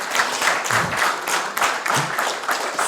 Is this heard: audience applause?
yes